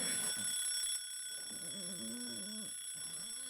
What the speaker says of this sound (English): what type of an alarm clock is this? You know what? It's an extra effective alarm clock.